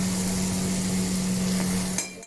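Chicken curry with salt being stirred in a pan, a steady sizzle and scraping of the spoon against the pan running for about two seconds before stopping abruptly.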